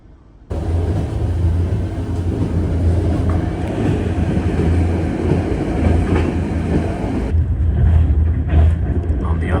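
A train rolls past on a track near a river at the Hungarian border, starting abruptly after a quiet moment and holding a loud, steady rumble with rhythmic clatter of wheels for several seconds.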